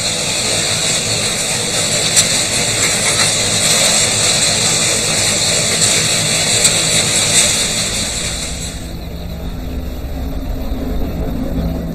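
The King-class steam locomotive King Edward I hauls a train at speed, a loud continuous roar and rumble that holds steady, then drops away sharply near the end as the train passes.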